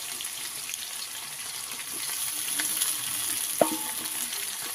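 Potatoes and taro fry in a pan for a fish curry, a soft steady sizzle with faint stirring scrapes and one sharp utensil knock near the end, no voices.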